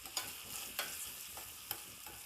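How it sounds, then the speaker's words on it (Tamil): Grated carrot frying in hot oil for a home remedy, a continuous close crackling sizzle with a few sharper pops and stirring scrapes, no voices. "இந்த ஈரத்தன்மை போய் அந்த எண்ணெயில் இந்த சொடன்னு இருக்கிறது"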